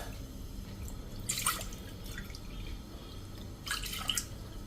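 Water poured into a pressure cooker, two and a half cups measured for making maize-flour khichu, comes through as two short splashing bursts over a low, steady background.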